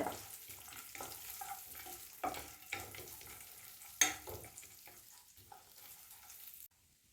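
Cashews frying in ghee for sweet somas, a soft steady sizzle broken by repeated scraping strokes of a stirring spoon, then cutting off abruptly into silence.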